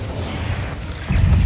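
A Bombarda spell explosion in the video game Hogwarts Legacy, a low, muffled boom that swells near the end of a short stretch of busy game noise.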